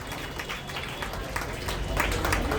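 A crowd at a BJP political rally in Mumbra breaks into brisk, scattered clapping, mixed with a loud voice over a public address system.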